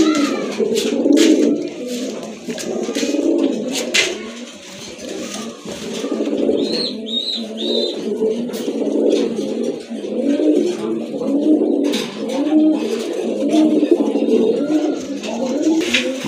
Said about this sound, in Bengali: মাশাআল্লাহ, বাঘা একটা নর কবুতর